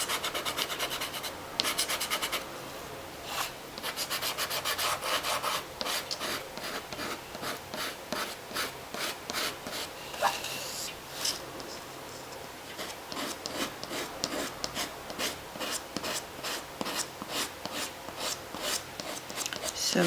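A knife blade shaves a Caran d'Ache pastel pencil in its wood casing, giving a steady run of close, dry scraping strokes in quick rhythm for the whole stretch, with no talking.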